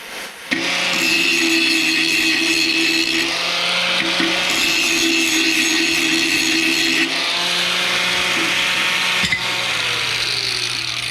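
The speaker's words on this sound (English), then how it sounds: "So I'm going to go ahead and cut these holes" Power tool cutting holes in steel parts of a Glencoe chisel plow, a loud steady whine with strong tonal harmonics running almost continuously, dipping briefly around the middle and near the end.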